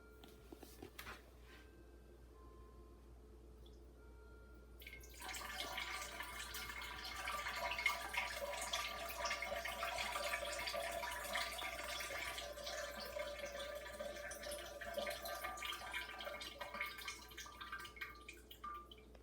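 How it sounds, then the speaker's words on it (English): A stream of liquid splashes steadily into toilet water at close range, starting abruptly after a quiet few seconds and continuing with a dense trickling hiss and occasional drips. "We are going to sit on the toilet. And we are going to take a little piss."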